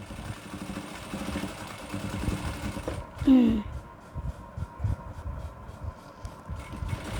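Sewing machine stitching a frill onto a pillow cover, a faint rapid mechanical clatter running under a voice giving instructions, with a brief louder bump midway.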